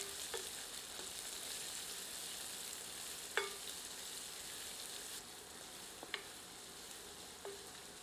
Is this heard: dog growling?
no